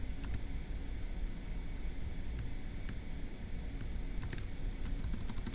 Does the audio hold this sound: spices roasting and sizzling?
no